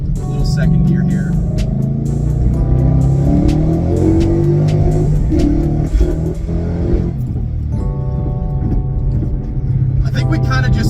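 A car running a BAMA 93 race tune pulls hard in second gear with a loud, sustained engine roar that rises through the revs and briefly eases before picking up again, close and continuous.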